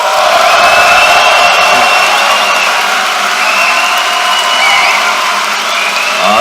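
A large lecture-hall audience in Vancouver cheers, whoops and applauds loudly and continuously, a dense roar of many voices sustained throughout.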